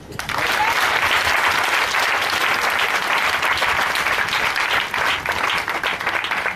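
A church congregation at a Sunday service breaks into loud, sustained applause, a dense wash of clapping that fills the room for several seconds without letup.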